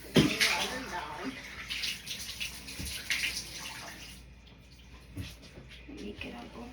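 Shower water runs while a dog is being washed, a loud steady hiss and splash that cuts off partway through and is followed by quieter drips and movement.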